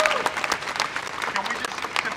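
A crowd at a street protest in downtown Chicago claps for speakers, dense outdoor applause with some shouting and voices mixed in.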